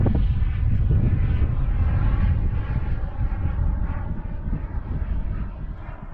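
A Global Jet Club Hummingbird RC jet with an ACEx-80 turbine flies slow passes with flaps down, a steady, fairly loud turbine roar and rushing air that eases slightly toward the end.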